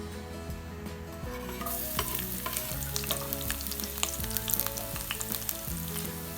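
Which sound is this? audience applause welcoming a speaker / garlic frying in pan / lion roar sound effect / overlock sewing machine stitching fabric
garlic frying in pan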